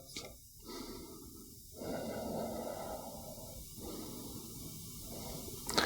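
Deep, slow breaths during a vinyasa yoga flow: a soft, close inhale and held breathing with airy nasal rushes, quiet and alone.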